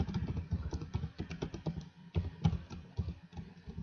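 Typing on a computer keyboard while entering a login link, with steady clusters of key clicks throughout, close and fairly quiet, no talking.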